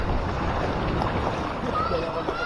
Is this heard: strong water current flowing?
yes